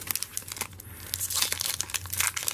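A Magic: The Gathering Khans of Tarkir booster pack being torn open, its glued foil wrapper crinkling and ripping in close, bursty rustles for a couple of seconds.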